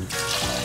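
Coconut water from a rotten coconut pours out in a short, steady splashing stream, close and fairly loud, lasting under a second.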